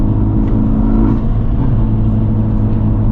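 A Honda Type R drives along with a steady, loud engine rumble and road noise heard from inside the cabin, holding a constant drone without clear revving.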